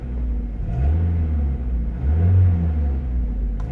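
A 1990 Mazda Miata engine idles with a low rumble, briefly revving twice in a row before settling back down.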